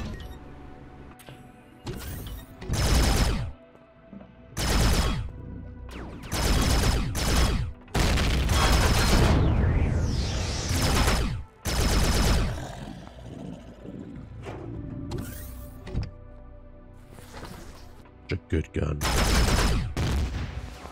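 Repeated bursts of gunfire from a weapon in the sci-fi survival game Empyrion Galactic Survival, loud and close, firing in several separate volleys with short gaps, over steady in-game background noise.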